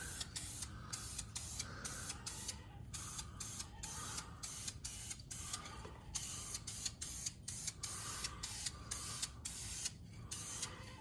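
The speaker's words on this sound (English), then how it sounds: "So I'm going to get another quick coat of paint here" Paint being sprayed under a Detroit Diesel Loadstar truck axle comes as rapid, repeated short hissing bursts, faint and evenly spaced over several seconds.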